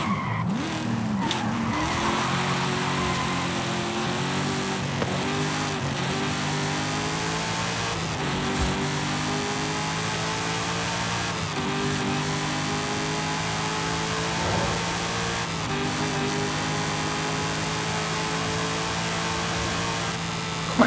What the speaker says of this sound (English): Quite an engine note on this Evo.